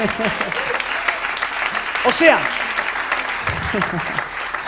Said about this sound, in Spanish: Si lo crees, dale un aplauso.